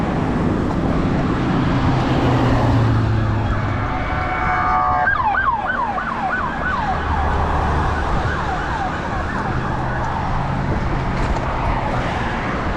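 A fire truck siren wails past on a windy Jacksonville, North Carolina street: loud rising and falling yelps, then a steady whooping cycle, over constant traffic and road rumble.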